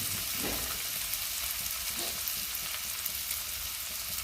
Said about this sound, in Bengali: ভাজবো পেঁয়াজটা। এর মধ্যে একটু নুন দিয়ে দিই